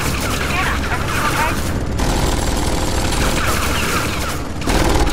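Turret gunfire rattles in rapid, dense bursts in the video game Tales from the Borderlands, a loud continuous barrage with brief pauses between volleys.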